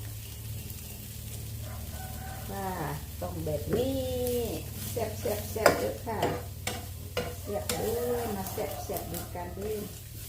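Insects stirred and dry-roasting in a pan, scraping and crackling under someone talking, with a rooster crowing faintly in the background.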